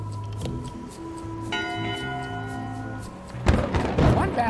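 A single bell rings in the Return to Monkey Island video game, a clear tolling strike with a long ringing decay, followed later by a dull thump amid quiet background game sounds.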